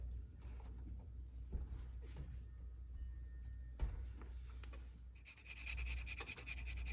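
Fresh ginger root rubbed against a grater over an apple crisp being assembled, giving soft, steady scraping strokes close by with a brief brighter hiss near the end.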